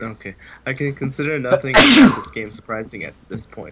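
A single loud sneeze bursts out in the middle of animated conversation, with people talking before and after it.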